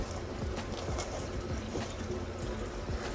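Water poured onto a Syngonium albo houseplant growing in soil, a steady soft trickle and splash that runs unbroken for a few seconds, close and fairly quiet.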